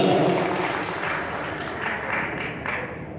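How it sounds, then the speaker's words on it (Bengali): Dense audience applause fills the hall at a theatre performance of a devotional play, steady and fairly loud throughout, with faint voices mixed in. "জোরে একটা তালি করতে হবে।"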